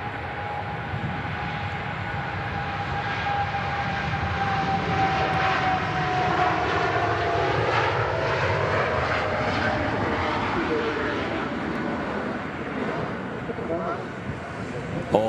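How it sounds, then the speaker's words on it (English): A TUI Boeing 787-8 Dreamliner taking off from Manchester Airport, its engines a loud sustained roar with a shifting whine that holds for the whole stretch, while a voice talks over it. "Tui Dreamliner heading off to Montego Bay."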